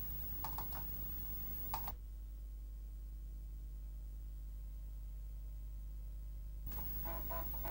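A computer mouse double-clicks to launch the Cubase program: two clusters of quick, crisp clicks separated by several seconds of quiet background hum.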